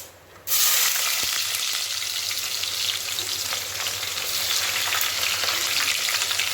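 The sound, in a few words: onions added to hot oil, frying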